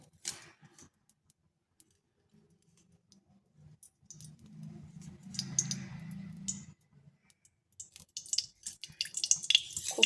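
Mustard oil is poured into a pan in a quiet kitchen, making a faint, soft liquid stream for a few seconds between scattered light clicks and drips.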